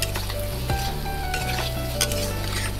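Chopped onion with chilli powder, turmeric and salt frying in a pan, a steady close sizzle with intermittent scraping of a spatula stirring against the pan.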